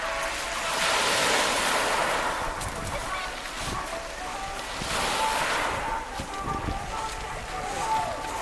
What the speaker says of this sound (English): You can hear the waves crashing and the rocks tumbling.